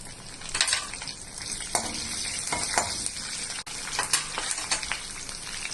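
Cumin seeds, curry leaves and green chillies fry in hot oil in a pan, crackling and sizzling steadily close by with occasional sharp pops and the scrape of stirring.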